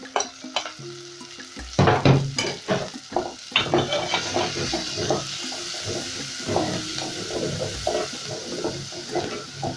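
Capsicum and coriander stems fry in a pan for a chickpea curry, giving a lively sizzle that flares as they go in, with frequent stirring scrapes and clatter over the steady frying.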